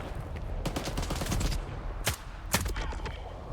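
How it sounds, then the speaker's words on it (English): Enemy gunfire rattles in the video game Stalker 2: several quick bursts and single sharp shots crack out of a moderate distance across a few seconds. "There's like a dude shooting me somewhere."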